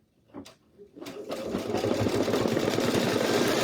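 A Brother V5 or Luminaire embroidery machine stitches a Christmas hanging sign. After a couple of faint clicks its steady whirring, rapid stitching starts and runs continuously and fairly close.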